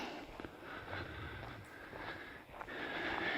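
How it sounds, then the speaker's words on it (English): A dog taking big sniffs while smelling things outdoors near Roxbury Falls, Nova Scotia, rapid breathy sniffing close by over steady background noise. "She takes such big sniffs when she's smelling stuff."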